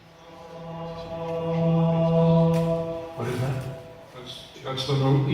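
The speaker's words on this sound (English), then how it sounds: "That's the note E at 330" A single pure sine tone at 330 vibrations per second, the note E, holds steady and fairly loud for about three seconds, then gives way to someone speaking.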